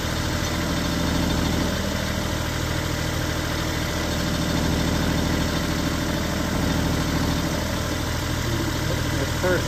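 A Kubota L35 tractor engine runs steadily in gear with a continuous low idling rumble and vibration, close and fairly loud throughout, with a voice speaking briefly over it.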